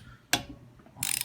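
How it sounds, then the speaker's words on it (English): AK-74 rifle barrel being pressed off its trunnion with a press: a sharp metallic crack, then a rattling burst of clicks near the end, close and fairly loud with no talk. "That is the barrel being pushed off."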